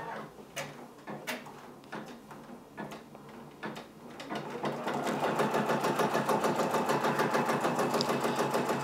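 A Brother Persona PRS100 embroidery machine stitches a patch, starting with scattered clicks and knocks before settling into a fast, even, rhythmic stitching chatter that stays close and moderately loud.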